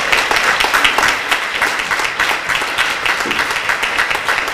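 At a mixed choir's 80th-anniversary concert in Mielec, a hall full of people claps heartily, with steady, loud applause carrying on for the whole stretch.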